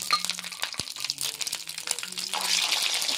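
Ginger paste, dried chili and bay leaf fry in hot oil, a close, crackling sizzle with stirring scrapes that swells into a denser hiss toward the end.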